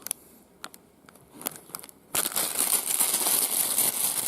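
Plastic bag from Casio AQ-230 watch packaging crinkles close up, a few sharp isolated crackles at first, then continuous loud rustling and scrunching for the last two seconds.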